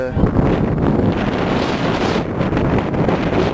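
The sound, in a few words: wind blowing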